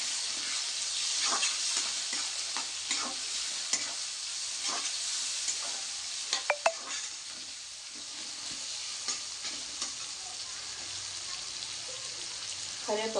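A spoon stirs fish curry spices with rock salt and turmeric in a pan for an Andhra-style fish curry, giving a steady broadband sizzle with repeated scraping strokes and a few sharp clinks, close and continuous.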